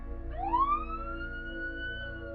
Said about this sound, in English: the sound of sirens finally echoed through the forest as the police arrived at the scene